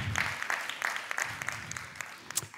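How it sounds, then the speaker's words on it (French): A small audience claps for a deputy mayor, scattered distinct handclaps at a moderate level, uneven and fading slightly toward the end. "Vous pouvez l'applaudir"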